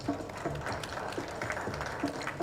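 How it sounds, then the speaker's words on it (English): Audience at the Afro World Agri Food 2023 event in Dar es Salaam clapping, a moderate, slightly distant patter of scattered hand claps with a few sharper taps standing out. "Big round of applause, please."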